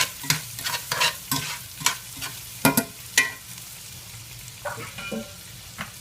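Onions sauté in a pan for a one-pan Italian chicken dish, with a low sizzle under a series of quick, close spatula scrapes and stirs that fade toward the end.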